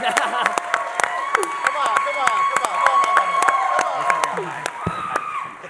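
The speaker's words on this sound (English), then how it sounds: "I wanna give one more round of applause because give it up for John Malat." An audience at a personal branding panel event claps and cheers, with dense sharp claps, whoops and shouted voices running continuously for several seconds and then thinning out toward the end.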